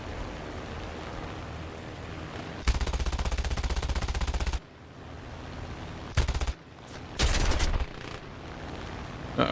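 Rapid bursts of aircraft machine-gun fire in War Thunder air battle, loud and rhythmic, several separate bursts of varying length over a steady engine drone, with no talk.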